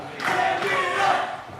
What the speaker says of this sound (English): This crowd chanting "Crank it up," trying to get Frank the Crank back to his feet.